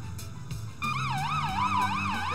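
A wailing emergency vehicle siren in the game Rescue: Everyday Heroes starts abruptly and sweeps up and down in loud, close cycles over engine rumble.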